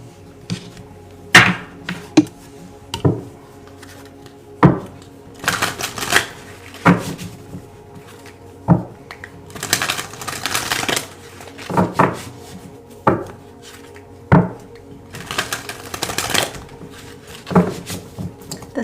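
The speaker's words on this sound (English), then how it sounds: "Let's pull some more cards here." Tarot cards are shuffled and laid down in irregular bursts, with sharp snaps and soft riffling taps close by, separated by quiet pauses.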